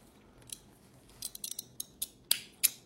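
Scissors snip through crochet yarn in a series of sharp, close clicks, scattered irregularly and growing denser toward the end, with no voices.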